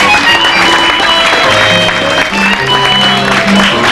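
Loud, sustained applause from a fiesta audience for a guitarist, dense clapping filling the whole stretch with a little crowd murmur, with a hum of instrumental tones underneath.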